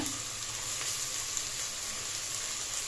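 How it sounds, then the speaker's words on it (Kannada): Vegetables with green peas, coriander and mint sizzling and frying steadily in a pan for vegetable rice bath, a continuous close crackle with no talking. "ನೀಟಾಗಿ ಎಲ್ಲದನ್ನು ಚೆನ್ನಾಗಿ ಫ್ರೈ ಮಾಡ್ಕೊಳ್ಳಿ"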